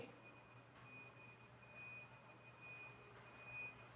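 A faint, steady electronic beeping tone from a reversing garbage truck, heard from a distance over low background hum.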